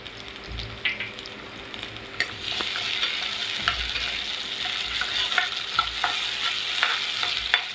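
Onion and tomato fry in oil in a pan for a spicy surmai (kingfish) curry, giving a steady sizzle broken by repeated scraping stir strokes, close by with no talking.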